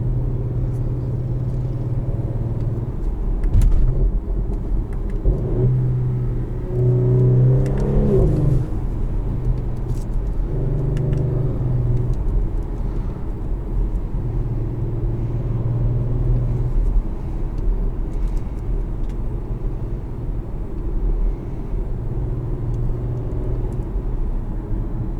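A 2022 Audi SQ5 Premium with its twin-turbo V6 and aftermarket exhaust drives along with a loud, steady low rumble, swelling in a few brief revs and surges, with no talking over it.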